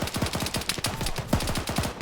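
Rapid automatic gunfire in the Arma 3 military shooter game, a fast, steady burst of sharp, evenly spaced shots that is loud and continuous throughout, with no voices.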